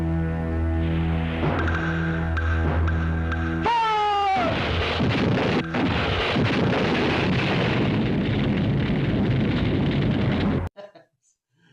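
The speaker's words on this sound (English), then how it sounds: "and shoot Robot Cop, and he explodes." Low-budget movie explosion effect as a robot cop is shot and blows up: a sustained, loud, rumbling blast with a descending whine, running several seconds before cutting off abruptly.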